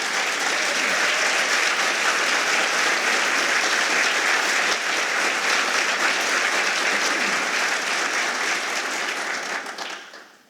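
Sustained, dense applause from an audience at a county State of the County address, honoring recognized community members; steady and loud for about ten seconds before fading out at the end.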